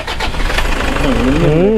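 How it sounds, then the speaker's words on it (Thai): A Toyota Commuter van's 2.5-litre common-rail turbo diesel engine idles steadily at close range, a low droning hum with a rising whine, while someone talks over it. "ฟังเสียงเครื่องยนต์ด้วยครับ"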